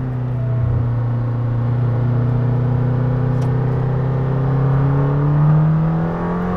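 A Lamborghini Temerario, rated at 920 CV and fitted with new tires, pulls away on a race track, its engine droning steadily and loudly close by and swelling in pitch as it accelerates through the lap.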